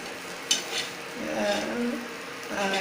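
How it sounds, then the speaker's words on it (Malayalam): Dried prawns fry with ginger paste and turmeric in coconut oil in a pan, giving a close, steady sizzle with a sharp clink of stirring near the start. "നല്ല രീതിയിൽ ഉണക്കക്കൊഞ്ച് ഫ്രൈ ചെയ്ത്"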